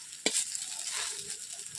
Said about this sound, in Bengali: বড়া ভাজাগুলো আপনারা এইভাবে উল্টে পাল্টে দেবেন আর অল্প আঁচে দিয়ে ভাজবেন